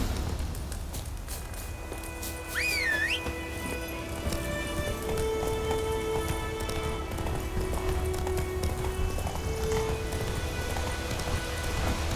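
Roach, Geralt's horse in The Witcher 3, clip-clops with steady rhythmic hooves at a trot near Kaer Morhen, close and even over rain-like ambience and soft music.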